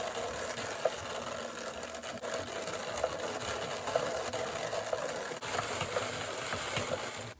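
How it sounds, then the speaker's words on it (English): A drum carder blending a fiber batt from scraps, giving a steady, quiet mechanical whir with faint rhythmic clicks and ticks repeating throughout. "we're gonna send it through the drum carder another time"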